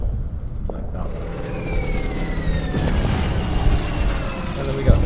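A bomber striking a target in the wargame Order of Battle, set in the Winter War at Ladoga Karelia in 1941: a deep rumbling boom with rolling explosion noise and a sharper hit near the end, under a voice talking.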